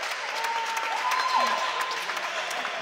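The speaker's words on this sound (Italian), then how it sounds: "Applausi per Romeo," Applause from the crowd at a Serie B basketball game between Eurobasket Roma and Montegranaro, continuous clapping at moderate distance with an arena whistle-like tone and faint voices mixed in.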